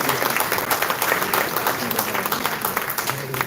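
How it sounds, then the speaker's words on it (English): Steady applause from an audience at the GD Goenka Confluence 2024 event, a dense continuous wash of clapping lasting throughout, moderately loud with faint voices mixed in. "Let's have a round of applause, ladies and gentlemen"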